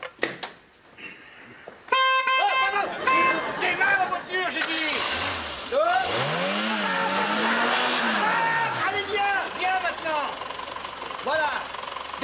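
A car engine is started and keeps running with a rough, rising and falling drone, heard under lively overlapping voices and other busy noise.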